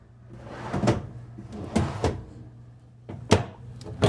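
Drawers in a 2026 Newmar Dutch Star 4081 Class A motorhome being pulled open and pushed shut, several sharp wooden knocks and slides in a quiet interior, spaced out over a few seconds.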